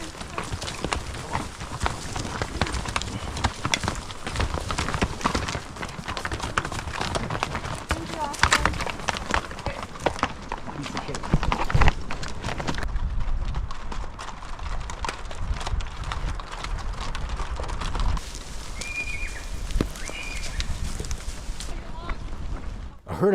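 Horses on a narrow timbered trail during a horse drive, a busy continuous clatter of many hooves at a brisk pace, up close and mixed with wind noise on the microphone and a voice talking.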